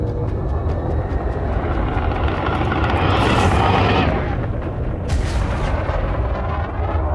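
Frag cannons firing from a Cobra Mk V in Elite Dangerous, a dense continuous roar of shotgun-like blasts over engine rumble, loud and sustained, swelling in the middle and near the end.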